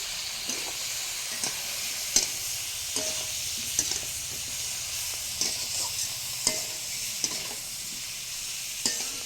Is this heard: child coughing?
no